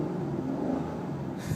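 A 2005 Aston Martin DB9 Volante's engine runs at a steady idle, a low, even rumble close by with no change in pitch, heard alone.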